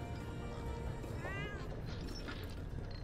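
A Palico cat companion in Monster Hunter World gives a single short meow, faint and brief, over quiet game background sound.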